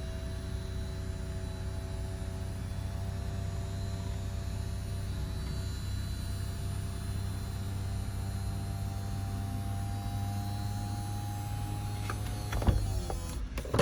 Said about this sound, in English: we'll put the convertible top up so you can see the operation